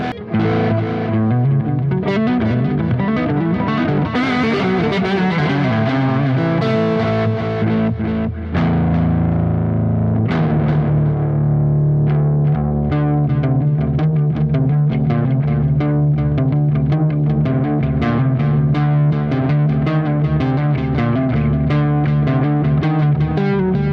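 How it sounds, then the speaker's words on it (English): Electric guitar played through a Positive Grid Spark 40 smart amp with delay and reverb, loud and continuous: sustained chords ringing out with repeating echoes trailing, then a run of quick picked notes. "there's a little bit of delay, a little bit of reverb"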